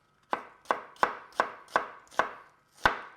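A knife chopping an onion into strips on a cutting board: seven crisp, evenly spaced thuds, close and clear with nothing else heard.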